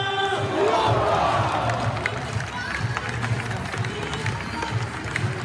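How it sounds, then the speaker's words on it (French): Stadium crowd applauding and cheering as a football player is introduced, a broad roar of clapping and voices with an announcer speaking over it throughout. "Merci d'applaudir"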